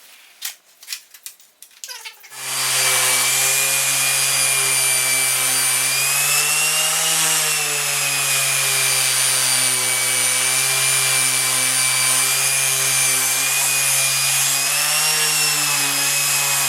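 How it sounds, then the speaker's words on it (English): Palm sander fitted with 60 grit paper grinding across a plywood hammer form, starting after a few knocks and then running as a loud, steady whine with a slight pitch wobble for about fourteen seconds. "a nice 60 grit piece of paper on the palm sander"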